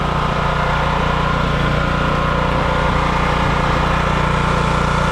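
A portable generator engine runs steadily at close range, a constant loud droning hum with a low rumble and no break throughout, and no one speaks over it.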